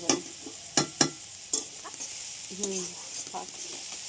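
Food frying and sizzling in a pan while being stirred, with a steady high hiss broken by several sharp scraping strokes of the spoon and faint voices in the background. The dish is momos being made in a home kitchen.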